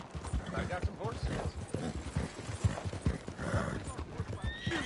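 In the Red Dead Redemption 2 video game, horses clop along with rhythmic hoofbeats and whinny and neigh several times, while characters talk over the scene.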